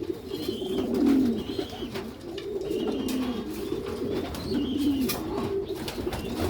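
Pigeons coo repeatedly in a loft where a mature male and a female are being paired, with soft rolling calls rising and falling close by, continuing steadily without any talking.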